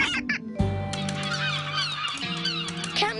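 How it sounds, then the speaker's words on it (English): Laughing gulls calling in a Paw Patrol cartoon scene, a loud honking, squawking chorus with layered bird cries over a bright musical score, no talking. "Captain Turbot is counting seagulls"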